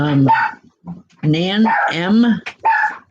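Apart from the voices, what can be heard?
dogs barking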